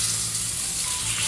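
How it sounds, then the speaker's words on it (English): Food sizzles steadily in a hot pan, a dense, loud crackling hiss that continues without a break. "It's definitely frying."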